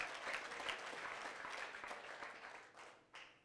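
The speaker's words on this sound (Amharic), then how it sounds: "አጨብጭቡ ለጌታ ክብር።" A church congregation claps loudly and steadily in dense, continuous applause that holds for a few seconds before thinning out near the end, with no talk over it.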